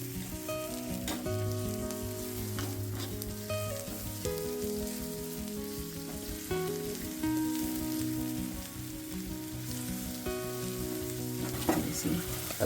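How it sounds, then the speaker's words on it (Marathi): Oysters frying in a pan with onion, coconut and goda masala, a steady close sizzle and crackle with occasional stirring clinks, alone without talk. "आता हे जे मस्त फ्राय बनवते आहे"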